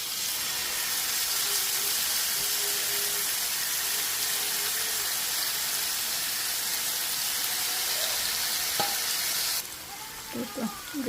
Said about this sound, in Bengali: চিকেনগুলো গ্রিল প্যানে দিয়ে দিব।